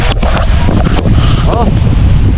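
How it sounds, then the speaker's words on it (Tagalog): Strong wind roars steadily into the microphone at a rural hut with a thatched roof and chickens nearby, a loud continuous buffeting rush that fills the whole moment. "At napakalakas na ng hangin, grabe."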